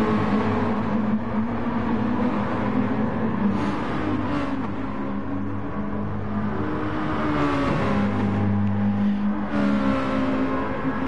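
Mazda MX5 race cars racing on a track, engines droning and revving steadily in-car, with pitch rising and falling through gear changes and corners, loud and continuous throughout.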